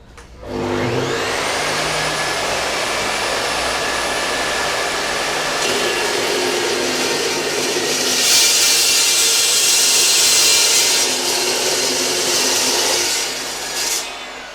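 A power saw runs steadily and loudly, grinding through metal at a playground-equipment company, with a continuous high whine that swells slightly toward the end before stopping.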